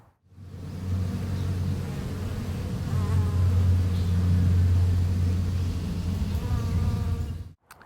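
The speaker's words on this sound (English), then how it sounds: "we're going to suit up and we're going to install the bees" A dense, steady buzzing of many honeybees, loud and close, continuing throughout with a low droning hum underneath.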